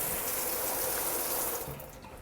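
A house shower runs with a steady, fairly quiet hiss of flowing water that thins out near the end.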